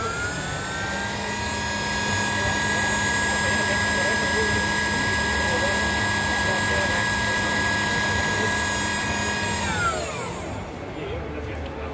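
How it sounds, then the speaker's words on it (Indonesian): An electric motor on a Yamaha NMAX E01 scooter gives a steady, high, layered whine under a constant rushing noise, its pitch sliding downward near the end as it spins down. "Suaranya nging ya, makanya saya kalau nyebut motor listrik itu salam nging mania."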